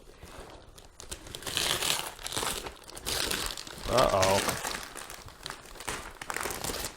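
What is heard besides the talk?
gift wrapping paper being torn open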